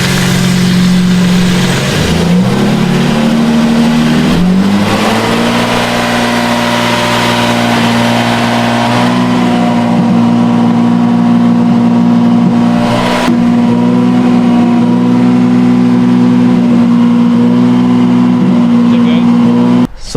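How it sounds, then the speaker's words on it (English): A modified, tuned BMW M3 CS at about 700 wheel horsepower idles loud and close, with a few rev blips near the start before it settles into a steady, deep drone. A voice speaks over it. "Rev it a little bit."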